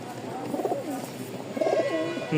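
Pigeons cooing softly nearby in a loft, a few low throaty coos in short bursts with faint ambient noise.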